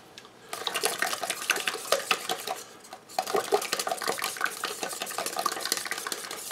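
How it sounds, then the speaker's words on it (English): A whisk stirs a flour mixture in a bowl for bread dough made from an 1893 recipe, giving a brisk, rhythmic scraping and tapping that pauses briefly midway, then carries on steadily and close by. "I'm going to whisk this just so it's"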